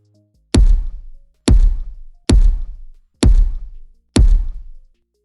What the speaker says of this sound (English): they can thump their feet when scared